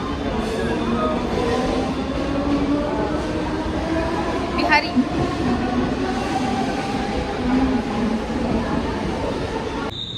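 A train rumbles and hums steadily at a station, with people talking over the noise and a brief high metallic squeal midway.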